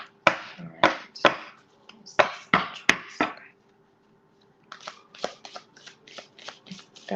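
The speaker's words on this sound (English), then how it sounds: "I'm gonna do one more shuffle without a mind, okay? And then I'll overhand shuffle it." Tarot cards overhand shuffled by hand close up: a quick run of sharp papery slaps and riffles, a brief pause, then a second, faster burst of evenly spaced card strikes.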